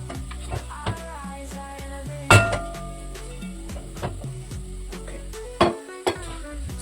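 Turkey meat is stirred in a pan with a low frying sizzle under it. A spoon scrapes and clinks against the metal several times, with one sharp knock partway through.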